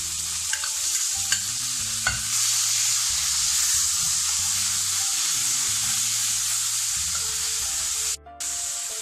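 Onion, capsicum and tomato frying for pav bhaji, a loud steady sizzle with busy stirring and background music, and a brief break near the end.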